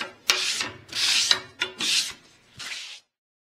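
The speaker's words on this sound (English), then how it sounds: "I'm just using a sanding sponge from my Surf Prep. I'm just smoothing the edges that I cut for this piece." A sanding sponge rubs along the cut edges of MDF furniture pieces in four close, raspy back-and-forth strokes, each a bright scratchy burst with short pauses between, loud and alone.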